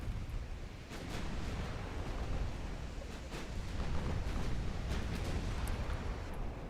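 Naval gunfire from warships in Ultimate Admiral Dreadnoughts, a continuous rumbling barrage of distant booms and sharp reports layered over a low roar, fairly loud and with no voices.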